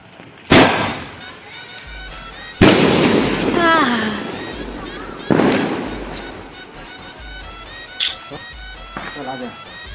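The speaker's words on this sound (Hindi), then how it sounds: "पटाखा फोड़े बैठ जाबो जी।" Firecrackers burst at a Tulsi puja celebration, with three loud, sharp bangs a couple of seconds apart, each trailing a brief rumble, then a smaller pop later. People talk and call out between the blasts.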